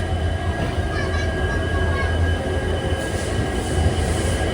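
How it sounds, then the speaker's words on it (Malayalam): Poorna Express train at Castle Rock station, with banker locomotives nearby, making a steady, loud rumble of running wheels and engine, a continuous even roar held throughout, no voices. "11:30 കാസൽ റോക്ക് ഒന്ന് ട്രെയിൻ എടുത്തിരിക്കുകയാണ്."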